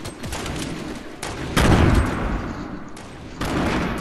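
Rapid bursts of video game gunfire crackle through a multiplayer shooter match, with louder volleys near the middle and end.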